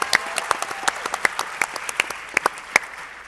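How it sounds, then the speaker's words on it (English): Scattered applause at a school board meeting, a small group clapping with distinct individual sharp claps standing out irregularly, moderately close and without speech. "Let's give a round of applause."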